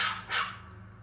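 A Yorkie dog mod in the video game Stray gives two quick, close, high yappy barks in a row, alone over a faint low hum.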